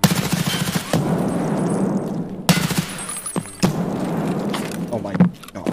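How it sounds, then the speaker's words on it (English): Shotgun gunfire in the Escape From Tarkov video game: a few loud, heavy blasts spaced a second or so apart, each followed by a rumbling tail, with muffled movement noise between shots. "Okay, it's a shotgun."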